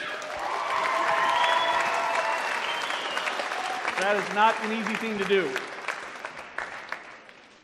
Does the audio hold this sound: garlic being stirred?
no